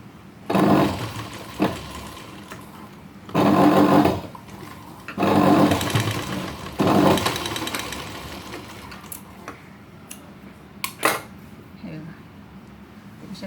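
Sewing machine running near and loud in several bursts of one to two seconds, with short pauses between them, while a blouse sleeve is stitched into pleats to form a butterfly design.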